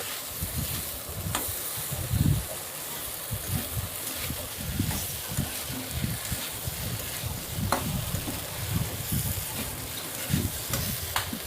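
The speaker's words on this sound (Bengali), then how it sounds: "ভেজে রাখা সোয়াবিনগুলো দিয়ে দেবে এরপর ভেজে রাখা আলুগুলোও দিয়ে দেবে নাড়াচাড়া করে" Fried soya chunks and potatoes are stirred around a pan, making a continuous frying sizzle broken by repeated scraping and clattering stirring strokes, close and steady, with no voices.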